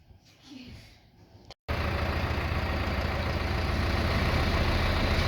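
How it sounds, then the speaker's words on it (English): A squeaky gravel delivery truck idles nearby, its loud, steady engine rumble cutting in abruptly after a brief quiet stretch and holding constant to the end. "Squeaky truck."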